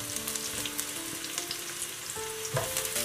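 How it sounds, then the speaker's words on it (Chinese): Shiitake mushrooms stir-fried in oil with scallion, ginger and garlic in a wok, a steady close sizzle with scraping stir strokes throughout, no talk. "炒香之后倒入香菇"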